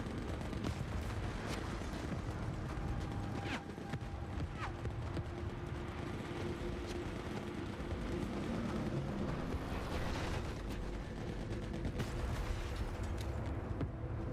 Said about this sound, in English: I believe those are tanks explosions.